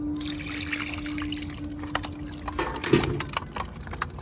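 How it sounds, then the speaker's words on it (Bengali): Chicken meat is washed outdoors, with water trickling and splashing in uneven bursts alongside a low steady hum, close by and with no speech. "আমি এদিকে মাংসটা ধুয়ে ফেলছি ততক্ষণে"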